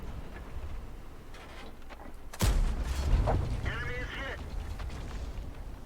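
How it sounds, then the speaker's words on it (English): Tank gunfire in World of Tanks: a single sharp, heavy cannon blast cracks out midway and rumbles away, with a faint voice and low background noise around it. "So they're shooting over on that side."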